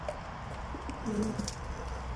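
Domestic pigeons and wild rock pigeons coo softly in low, throaty murmurs amid a steady outdoor background, a couple of brief calls close by.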